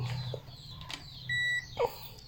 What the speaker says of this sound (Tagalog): Yung may buzzer to, tumutunog.